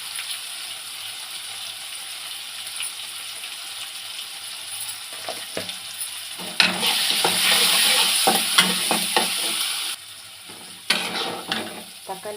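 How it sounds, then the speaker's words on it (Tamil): Tomatoes frying with turmeric in a pan give a soft steady sizzle, then louder bursts of scraping and stirring with clinks toward the end, with no one talking. "தக்காளி நல்லா வதங்கிடுச்சு"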